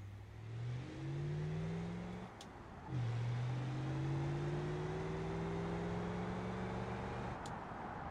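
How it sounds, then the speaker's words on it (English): A Duramax-powered truck in BeamNG.drive accelerates with a low diesel engine drone that rises in pitch, drops at a gear shift, then climbs steadily again, heard alone without talk. "we're going to be getting on the road in this Duramax powered truck"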